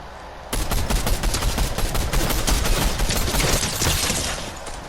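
Rapid, loud gunfire from the video game Fortnite bursts in after a short pause and continues as a dense, sustained fusillade of shots, tapering slightly at the end with no speech.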